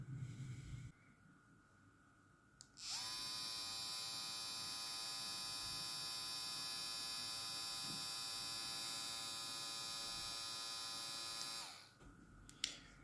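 A Kulilang R55 electric hair trimmer with its original blade switches on and runs as a loud, steady buzzing whine for about nine seconds before winding down, with quieter handling noise before and after.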